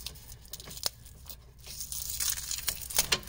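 Duct tape is peeled and torn off a starter cable on a 1984–89 Toyota van, giving close crinkly ripping and tearing with a few sharp snaps and rising toward the end.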